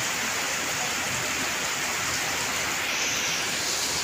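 Rainwater pours steadily into a rain-harvesting collection system, a dense, even rushing hiss of falling water close by, unbroken throughout with no voices.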